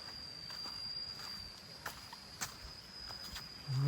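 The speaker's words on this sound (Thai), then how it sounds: "มีแค่เสียง น้ำกับ เสียงพวกแมลงนะทุกคน" Steady high insect chirping, crickets by the sound, near water in a quiet natural setting, a continuous thin drone with a few faint footstep-like taps and a rustle at the end.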